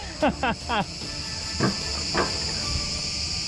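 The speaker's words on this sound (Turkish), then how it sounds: "Cırcır sesleri eşliğinde." Several quick rhythmic cricket chirps ring out at a park in Antalya in the first second, then a couple of fainter chirps follow over a steady background hum.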